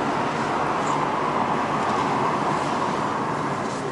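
Steady broadband whooshing hum of an air conditioner unit running outdoors, with loud constant noise and no breaks throughout.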